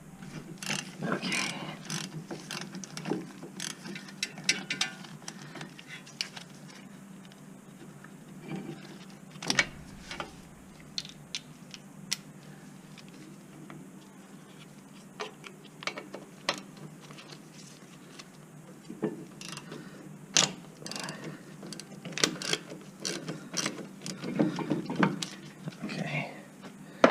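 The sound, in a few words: Milwaukee power ratchet loosening T45 brake bolts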